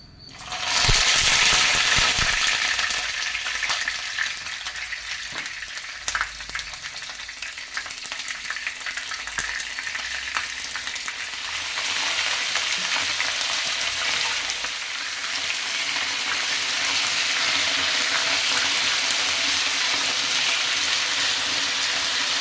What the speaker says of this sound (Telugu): ఈ తరుక్కున్న వంకాయలు ఫస్ట్ ఆయిల్ వేసుకుని మంచిగా ఫ్రై చేసేసుకోవాలన్నమాట